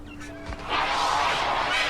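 A bird squawking in the video game Broken Age, a brief honking call followed by a sustained, bright fluttering chatter.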